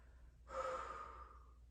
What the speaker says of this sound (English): Make sure you're breathing in and out very deeply.